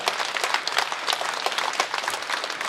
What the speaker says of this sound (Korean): 우리 하나님께 영광 박수 한번 올려드리도록 하겠습니다.